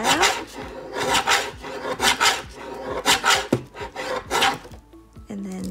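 Scissors cut out a piece of crepe paper up close, making repeated rhythmic rasping and crinkling snips about twice per second. A few small clicks and rustles follow at the end.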